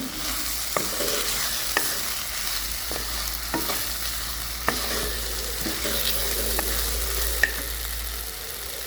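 Chopped green chilies are stirred and sautéed in a pan for banana flower mochar ghanto, a continuous bright sizzle punctuated by regular spatula knocks and scrapes against the metal, close and clear.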